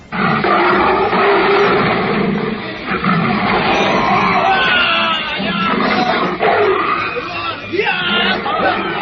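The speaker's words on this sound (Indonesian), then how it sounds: "tiba-tiba mendadak terdengar auman seekor singa" A loud, sustained roar of a lion, rough and rumbling, filling the space up close for several seconds.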